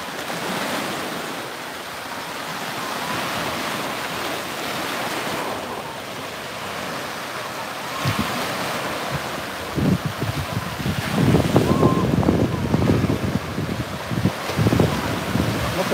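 Ocean surf rolls onto a beach with steady wind buffeting the microphone, a broad continuous wash that swells louder toward the end as waves break nearby.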